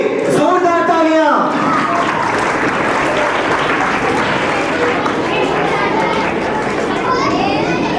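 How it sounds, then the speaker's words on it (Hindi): A large crowd applauds loudly and steadily for Shaheed Bhagat Singh at a 15 August Independence Day school gathering, the clapping filling the whole stretch. A voice and children's chatter are mixed in, mostly at the start. "तो एक बार शहीद भगत सिंह के लिए जोरदार तालियां।"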